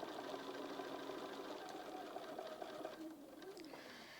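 Sewing machine stitching clear thread down the edges of quilt sashings, a steady close running hum with a fast even stitch rhythm that softens slightly toward the end.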